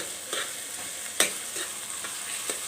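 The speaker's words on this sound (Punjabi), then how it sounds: "ਆਪਾਂ ਪਹਿਲਾਂ ਮਾੜੇ ਜਿਹੇ ਪਿਆਜ਼ ਭੁੰਨ ਲਏ ਫਿਰ ਵਿੱਚ ਇਹ ਡੰਡੇ ਪਾ ਪਾਤੇ" Onions and cauliflower stalks sizzling in a pan for aloo gobi, a steady frying hiss broken by occasional scrapes and stirring knocks, one sharper clack standing out, and no voices.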